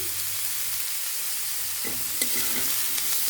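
Vegetables with garlic, ginger and chilli frying in a pan for leftover-rice fried rice, a steady broadband sizzle that brightens with a few stirring scrapes partway through.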